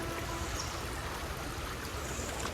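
Water flowing through a small canal beneath a little footbridge on a forest trek, a steady, even rushing murmur heard close by, with no voices over it.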